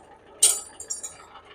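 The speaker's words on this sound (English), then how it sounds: "I dropped my wrench" A wrench drops onto the metal of a tractor near its PTO, one sharp bright clink followed by a few small rattling bounces that quickly die away.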